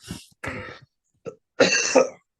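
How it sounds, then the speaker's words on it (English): A few short throat-clearing coughs, close and fairly loud, in separate bursts with brief silences between. "Sorry about the coughing."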